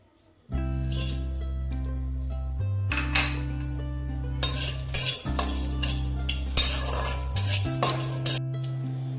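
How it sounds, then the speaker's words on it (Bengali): Spice mix dry-roasted in a pan for a chicken curry: steady scraping and clinking of a utensil against the pan, with no real sizzle, over continuous background music. "এই মশলাটা আমি এটাকে ড্রাই রোস্ট করব"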